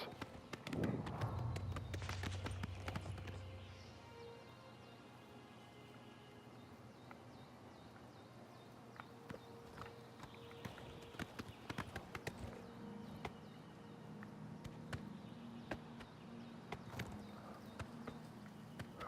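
Horse hooves clip-clopping steadily on hard ground in The Elder Scrolls IV: Oblivion Remastered, with a snort or whinny at the start, then continuous rhythmic hoofbeats under ambient game noise.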